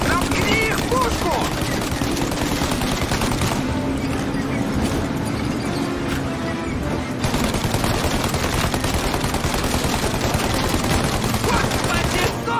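Rapid bursts of gunfire from the video game Mafia: Definitive Edition crackle continuously over a dense, loud mix of game noise, with voices talking in Russian through it.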